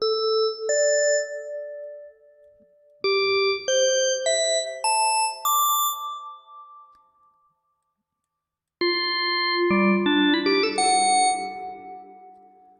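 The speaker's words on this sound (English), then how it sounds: "we end up with a really clean, crystal clear crystal keys, just like the preset" Bright, bell-like synth key tones ring out in short ascending phrases, each note chiming cleanly and decaying, with a pause before a final richer run.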